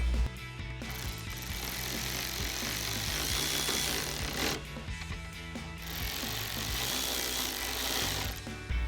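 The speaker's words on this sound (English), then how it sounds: "And then tightening them down with our 10mm socket." Ratchet driving a 10mm socket to tighten nuts on a 2018-2023 Mustang GT upper grille, a steady mechanical clicking that runs continuously at close range with no talking.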